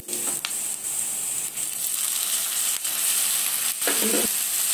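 Tomato pieces fry loudly in a hot spice tempering for a tambakaya fry, giving a constant dense sizzle. A few brief scrapes and clatters from stirring come through near the end.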